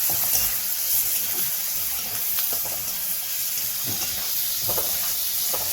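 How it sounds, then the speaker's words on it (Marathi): Onion and tomato sautéing over a full gas flame for a green-masala matki curry, a steady hissing sizzle with scattered clicks of a spoon stirring, close and continuous throughout. "आता कांदा टोमॅटो एकदम व्यवस्थित फुल गॅसवरती चांगलं परतून घ्यायचं आहे."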